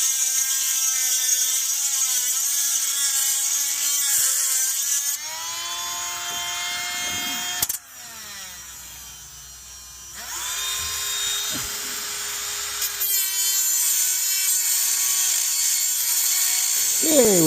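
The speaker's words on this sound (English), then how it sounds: "Just trying to get this nut out of here." A high-pitched power tool whines and shifts pitch on a stuck exhaust nut of a 1996 Chevy 1500, running in long sustained bursts that dip and spin back up, close and loud.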